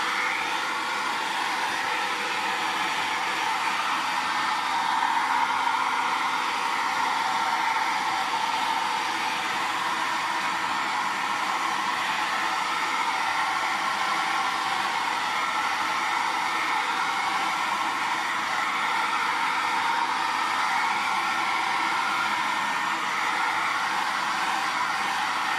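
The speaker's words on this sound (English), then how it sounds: "I think I'm just going to blow dry this" A hair dryer blows on a still-wet painting being made as a master study, giving a constant, even whoosh of air that runs close and loud for the full length without a break.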